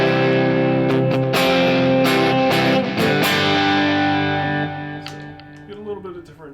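A Squier Jaguar electric guitar plays through both pickups with the strangle switch engaged, giving loud, distorted, effects-laden chords struck several times and left to ring out, then fading into softer sustained notes.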